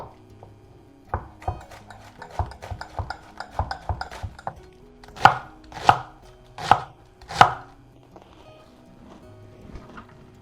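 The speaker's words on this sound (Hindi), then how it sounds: "अब ऐसे ही पत्ता गोभी काट लेंगे।" A knife chops cabbage on a board for soup, first in a run of lighter, quick cuts, then in four loud, separate, evenly spaced thuds, close up, with no talking.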